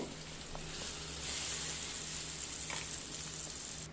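Quiet sizzle of ground yellow cucumber chutney frying in a tempering of spices, a soft, even crackle with a few faint clicks from stirring, fairly close and with no one speaking.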